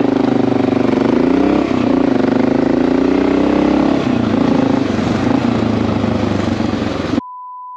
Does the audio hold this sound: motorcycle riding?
yes